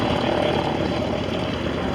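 A propeller-driven aerobatic plane performs at an aerobatics world championship air show in Châteauroux, a loud continuous engine roar mixed with crowd noise and a commentator's voice over the top.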